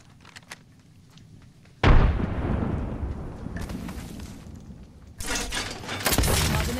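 A frag grenade in the video game Apex Legends detonates with a sudden loud blast that rolls off into a long rumbling decay, followed a few seconds later by further booming gunfire-like bursts, with no voices.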